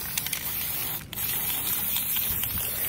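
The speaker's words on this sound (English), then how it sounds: "I'm just going to spray paint the seat." An aerosol spray paint can hisses steadily while orange paint is sprayed onto a bike seat, a close continuous spray with one brief pause partway through.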